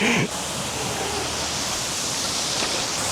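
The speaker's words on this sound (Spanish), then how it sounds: "La cascada sin nombre." Steady roar of a waterfall, a dense broadband rush of falling water that stays constant throughout, with a brief louder burst at the start.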